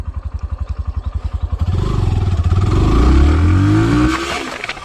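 A Hero Glamour motorcycle idles with a steady thumping beat, then accelerates hard, its engine note climbing in pitch through successive gear changes, loud and close throughout.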